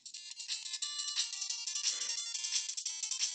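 Bright electronic chiptune-style game audio from a FunKey S handheld console at full volume, busy high-pitched tones playing steadily and fairly loud, with no talking.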